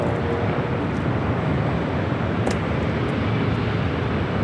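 Steady broadband roar of airliner jet engines on a takeoff run at LAX, continuous and fairly loud throughout with no break, and no voices.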